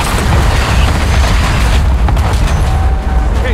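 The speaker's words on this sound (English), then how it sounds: "rocket launcher" A rocket launcher explosion in Black Ops 6 lands as a loud, deep, sustained boom with rumbling debris that slowly tails off, close and heavy, with no talking.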